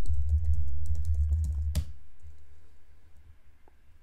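Keystrokes typing a command on a computer keyboard during a command-line accessibility testing session, a quick run of close clicks followed by one sharper key press, then quiet.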